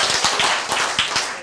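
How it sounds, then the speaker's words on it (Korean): Quick rhythmic clapping from a group breaks out during a Korean talk on healthy eating, a brisk run of close, fairly loud claps lasting about a second and a half. "박수!"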